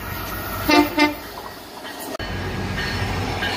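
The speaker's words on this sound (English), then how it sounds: "These units come equipped with a Nathan K5CA LS air horn." Nathan K5CA LS air horn on a GO Transit MP40PH-3C diesel locomotive sounds two short, loud blasts close by, followed by steady engine and rail rumble with no talk.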